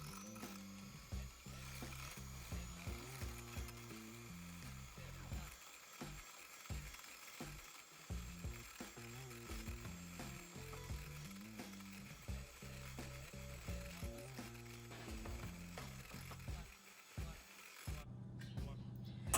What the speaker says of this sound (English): I'm going to start whisking it until it forms soft peaks